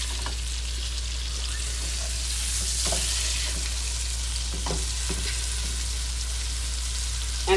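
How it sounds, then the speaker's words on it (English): A T-bone steak sizzles steadily in a pan of hot butter and oil while being basted, with loud continuous frying crackle, a low hum beneath, and occasional soft clinks. "I'm going to be basting it while it cooks"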